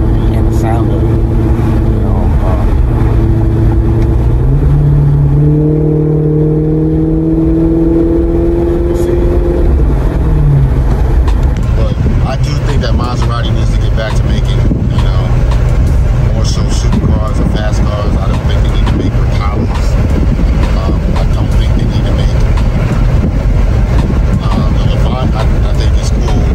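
A Maserati GranTurismo engine roars and revs loudly, pitch climbing and falling, then a sustained rumbling drive with people talking over it.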